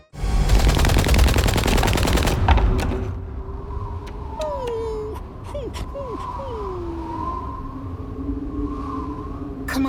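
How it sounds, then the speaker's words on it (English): Cartoon machine gun fire from Scooby-Doo Mystery Incorporated, a loud rapid burst lasting a couple of seconds, followed by quieter background tones and a few sliding whistle-like sounds. "we hear the machine gun fire that kills her"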